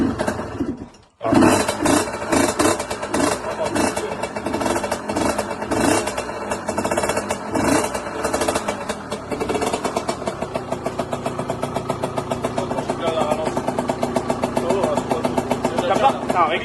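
A motorcycle engine idles on choke with a loud exhaust, running with a rough, throbbing, uneven beat after a brief pause near the start, close by, while people talk over it.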